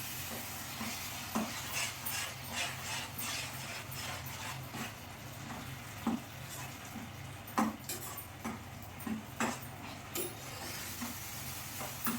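Gongura (sorrel leaf) mixture for pulihora fries steadily in oil with a continuous sizzle, while a spoon scrapes and clinks against the pan at irregular intervals, close and clear.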